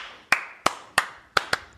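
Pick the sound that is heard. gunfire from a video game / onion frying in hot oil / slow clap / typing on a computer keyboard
slow clap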